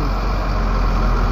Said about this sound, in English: the loud truck.